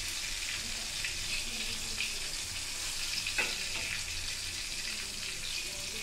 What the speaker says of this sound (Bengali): আর মাছগুলো গোল্ডেন কালার করে ভেজে নিব